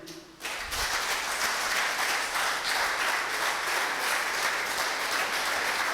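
A church congregation breaks into loud, sustained applause during worship, a dense, steady wash of many hands clapping that starts suddenly and continues without pause.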